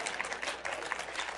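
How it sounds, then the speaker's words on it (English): A church congregation claps during a sermon, a brief wash of dense, even applause at moderate volume with no clear individual claps standing out. "If you're going to clap, really clap."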